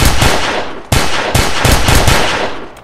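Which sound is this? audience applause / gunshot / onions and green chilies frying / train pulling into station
gunshot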